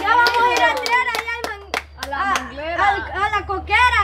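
Several people clap their hands in sharp, rhythmic bursts at a cheerful family gathering, close and loud, mixed with lively talking and children's voices throughout.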